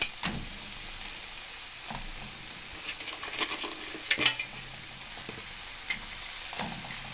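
Small local crabs frying in a pan, a steady soft sizzle with intermittent scrapes and clinks as they are stirred and arranged, fairly quiet and close.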